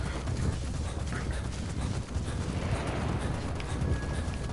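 Rapid hoofbeats of a galloping horse in the video game Metal Gear Solid V: The Phantom Pain, a continuous clattering rhythm over a busy background.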